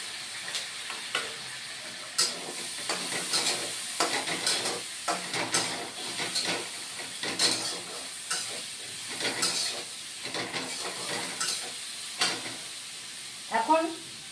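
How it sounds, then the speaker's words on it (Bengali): Potatoes frying in a pan with onion paste and garlic paste stirred in, a steady close sizzle broken by repeated scraping stirs throughout, with no voices. "আলুটা অল্প ভাজা হয়ে গেছে এখন এখানে আমি দিচ্ছি পেঁয়াজ বাটা রসুন বাটা এ দুটো দিয়ে দিচ্ছি"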